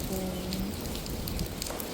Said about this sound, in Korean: 비 진짜 많이 오는데? 큰일 났다.